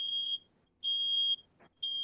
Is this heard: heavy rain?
no